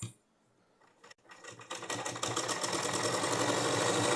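A sewing machine stitching a blouse starts up after a few soft clicks, then runs steadily with a fast, even whirring rattle that holds close and loud to the end.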